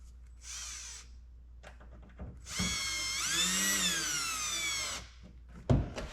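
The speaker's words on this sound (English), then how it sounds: "that's why I'm using my my drill and not my impact driver" A power drill drives screws into an interior panel of a K100 Kenworth truck. A short whir is followed by a longer run whose pitch rises and falls as the screw seats, close and fairly loud.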